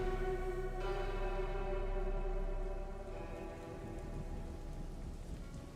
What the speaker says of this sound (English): I drove the U-Haul through the unrelenting rain of the Washington countryside.